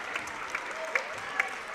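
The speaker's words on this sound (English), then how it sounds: "See the crowd recognizing both teams tonight." Crowd at a high school basketball championship game applauding both teams, a steady spread of clapping across the gym with a few sharper bursts standing out above the wash.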